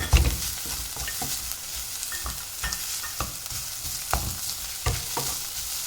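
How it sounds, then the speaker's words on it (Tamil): Onions frying with ginger garlic paste in a pan, a steady broadband sizzle with a series of sharp scraping stirs roughly every half second to second, close and fairly loud, with no talking. "இஞ்சி பூண்டு பேஸ்ட்டு சேர்த்துக்கிறேன் சேர்த்து நல்லா வதக்கிட்டு"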